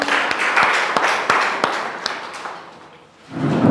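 Audience applause at a school result celebration as a guest is invited onto the stage: a dense wash of clapping with a few sharp louder claps, dipping briefly near the end before swelling again.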